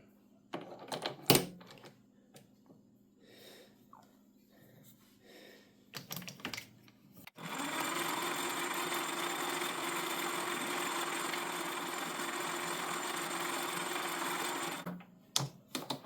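A metal lathe faces off a small part for a coil winder, a steady loud whirring cut running for about seven seconds after scattered quieter handling clicks and taps, then stopping abruptly.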